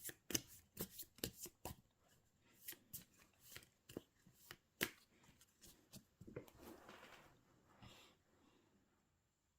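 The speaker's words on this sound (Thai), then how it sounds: "ขอเป็นตัวแทนสับไพ่ตัดไพ่ให้คนเกิดวัน พฤหัสค่ะ" Tarot cards are shuffled and cut close up in a quiet room. Crisp riffling bursts and sharp snapping taps come in a quick irregular run, then die away into soft rustling.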